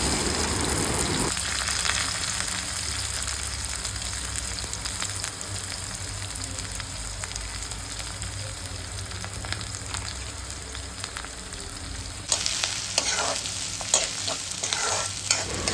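Garlic cloves and chopped onion sizzle and fry in hot tempered oil in a pan, a loud continuous crackling hiss with a sharp burst of fresh sizzling when the onion goes in near the end.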